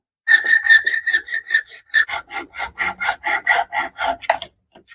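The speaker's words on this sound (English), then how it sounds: "I'm going to use some 100 grit sandpaper, and I'm going to sand this end" Coarse 100-grit sandpaper rasps across the cut end of a plastic party flute, a close, loud run of rapid back-and-forth strokes with short pauses, no voices.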